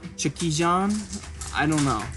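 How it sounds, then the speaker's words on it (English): Dogs whimper and yip in the background of an indoor room, high whining cries rising and falling beneath a person talking nearby. "Again, I apologize for the dogs in the background."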